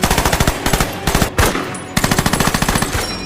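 Rapid bursts of automatic gunfire crackle in a war film firefight, loud close volleys of machine-gun shots in quick repeated runs with a heavier blast near the middle and brief gaps between bursts.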